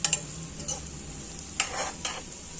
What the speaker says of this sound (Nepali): मजाले फ्राई गर्नुपर्छ।